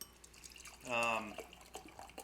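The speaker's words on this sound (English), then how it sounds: "I'll do a little bit of a pour so you can see what it looks like." Hard alcoholic kombucha brewed with champagne yeast, heavily carbonated, pours into a glass with a brief rising liquid gurgle over a low, steady background.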